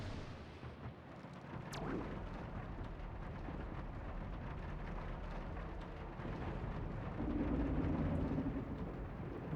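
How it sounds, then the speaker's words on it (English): Rain drums on the walls of a ship, heard from indoors in Star Fox Adventures, a dense, muffled, continuous rumbling wash with a sharp knock near the start and a heavier swell toward the end. "the way the rain sounds now as it's hitting the walls, but this time we can hear it from indoors"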